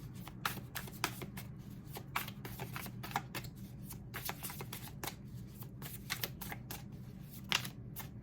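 Tarot cards being shuffled by hand for a reading, a steady run of soft papery riffles and flicks close by, with no talking.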